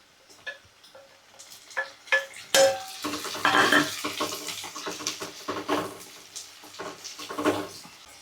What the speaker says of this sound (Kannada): ಈಗ ಇವನ್ನ ಚಲೋ ಹೊತ್ನಾಗ ಎಣ್ಣೆ ಒಳಗೆ ಫ್ರೈ ಮಾಡೋಣ